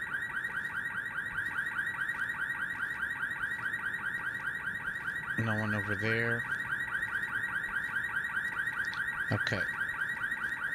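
A car alarm in the tactical shooter Ready or Not wails in a loud, steady repeating cycle nearby, with a person speaking briefly over it partway through.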